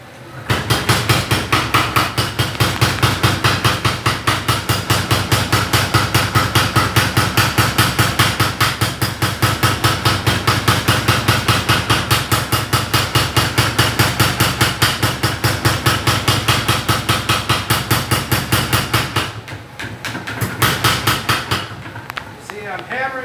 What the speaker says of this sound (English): I'm hammering it, continuing to hammer it as it cools off